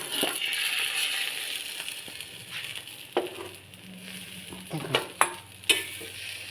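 Onions fry in a pan with a steady broadband sizzle. Several sharp spatula scrapes and clinks of stirring punctuate the second half.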